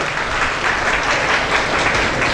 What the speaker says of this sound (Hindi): मेरी टीम के लिए जोरदार तालियां होनी चाहिए।